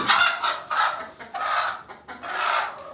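A large feather-footed hen in a heated coop in Alaska gives loud, close, agitated clucks in four or five squawking bursts.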